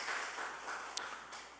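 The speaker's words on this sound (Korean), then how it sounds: "박수 한번 보내주시죠." A church congregation gives a round of applause during a Sunday service, soft distant clapping blended into a continuous faint wash.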